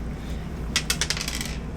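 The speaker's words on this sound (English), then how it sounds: "it's a dice roll no matter what" Dice rolling in the video game Baldur's Gate 3: a quick run of about six bright clattering taps over roughly three-quarters of a second, fairly close and clear above a low steady background hum.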